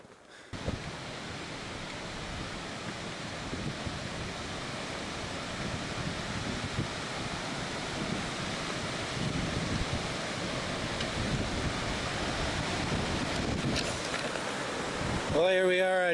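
Busk Creek on the Colorado Trail, at a footbridge crossing, gives a steady, dense rush of flowing water that fills the whole stretch without letting up, with a short burst of another sound right at the end.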